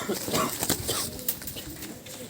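Pigeons coo softly amid a busy, noisy background, with indistinct human voices mixed in.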